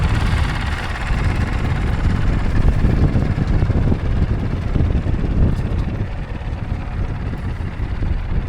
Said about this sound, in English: Really windy, but beautiful blue skies.